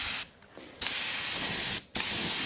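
Touch-up spray gun spraying paint onto small areas of a car, a steady close broadband hiss broken by two short pauses as the trigger is released.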